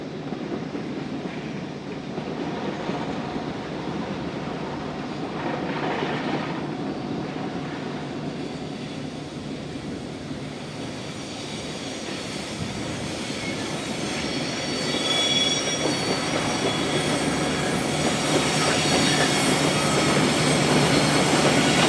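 A steel mill train hauling two empty bottle cars from an oxygen furnace rolls along the rails toward an interchange, with steady loud wheel squeal and rumbling rail noise that builds toward the end.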